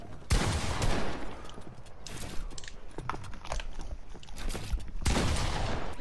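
Rapid bursts of video game gunfire, loud and close, rattling in clustered volleys with short gaps between, the densest bursts at the start and near the end.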